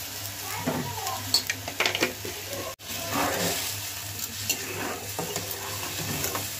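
Tamarind water poured into a hot pan of dried chilli and five-spice seeds, giving a steady sizzling hiss with stirring scrapes and light clatter, fairly close, alongside soft background noise.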